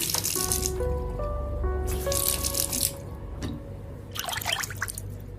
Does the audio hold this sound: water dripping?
yes